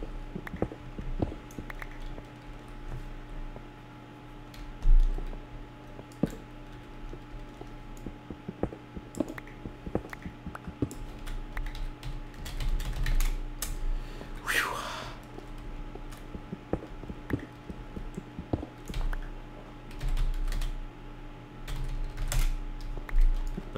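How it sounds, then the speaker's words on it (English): Rapid computer keyboard typing clatters close by in quick bursts and pauses throughout, with a steady low hum and the odd faint breath underneath. "I'm making so much typos because I want to type fast"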